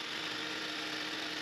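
A 2008–2012 Honda Accord EX engine idling as it warms up, a steady, even hum that holds without change for the whole moment with no voices.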